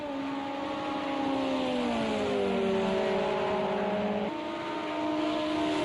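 Simulated LMP2 prototype race cars at Fuji Speedway in Project Cars 2, a loud steady engine drone with rising and falling revs and a sharp gear change near the end, continuous and close with no talk.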